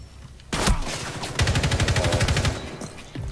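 Gunfire in the tactical shooter Rainbow Six Siege: a loud single shot, then a rapid, evenly paced automatic burst lasting about a second, and one more shot near the end, with no talking.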